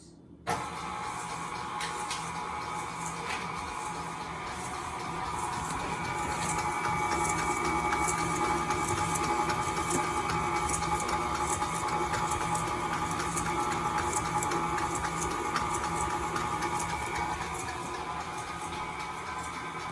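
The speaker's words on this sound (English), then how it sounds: "it's time to beat them together for 5 minutes" An electric mixer beats sugar and butter in a bowl for red velvet cupcakes, starting abruptly and then whirring as a steady, close motor drone with a faint rattling texture that runs continuously without talk.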